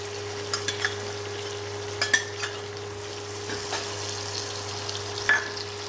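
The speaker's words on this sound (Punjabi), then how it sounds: "ਹਰੀਆਂ ਮਿਰਚਾਂ ਇਹ ਪਾ ਦਾਂਗੇ ਤੇ ਇਹਨੂੰ ਆਪਾਂ ਕੀ ਕਰਾਂਗੇ ਭੁੰਨ ਲਾਂਗੇ" Green chillies, onions, garlic and ginger frying in a pan, giving a steady soft sizzle with a few sharp clicks of a utensil stirring against the pan, close and alone with no talking.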